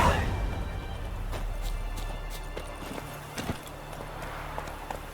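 A horse gallops in The Witcher 3: Wild Hunt. The hoofbeats are close, rapid and rhythmic over a low rumble, and a voice is heard briefly.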